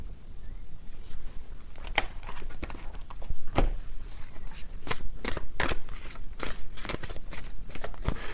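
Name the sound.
shuffling tarot cards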